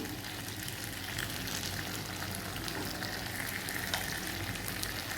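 Taro frying in a pan of oil for fish curry, a dense continuous sizzle and crackle that stays loud and even throughout, no voices.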